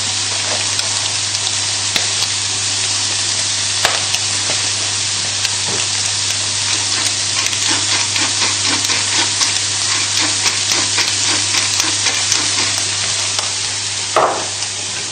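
Mushrooms with bacon frying in oil over high heat, a loud steady sizzle with scraping and stirring clatter as they are moved around the pan, no voices.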